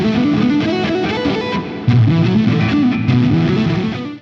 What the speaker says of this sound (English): They take a lick and just try to force it faster, and it sounds like this.